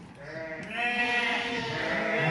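Sheep and lambs bleat steadily while being sorted on a farm, ewe lambs separated from wether lambs, with layered overlapping calls from a nearby flock, growing louder and denser after the first moment.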